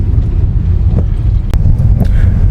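Strong wind roars continuously against the microphone outside a car during flooding on an island street, loud and buffeting throughout with a few faint knocks.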